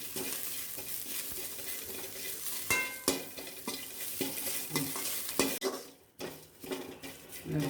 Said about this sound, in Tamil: அதையும் அதிலே போட்டு இது 2 ஈரப்பதம் போக நல்லா வணங்கணும். முறுமுறுன்னு வறுபடணும்.